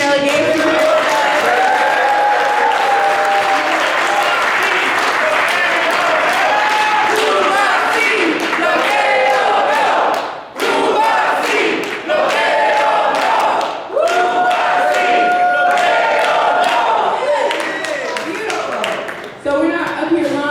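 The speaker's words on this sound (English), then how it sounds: "Can we get a round of applause for our Cuban delegation here with us?" A conference crowd greets a visiting Cuban delegation with loud, sustained applause mixed with cheering, whoops and shouts, with several brief dips in the clapping.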